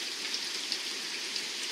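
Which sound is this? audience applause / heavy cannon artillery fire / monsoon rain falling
monsoon rain falling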